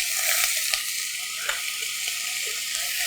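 Zucchini and onion hit a hot pan for a Korean gochujang stew, giving a steady close-up sizzle with a few sharper crackles and stirring scrapes throughout.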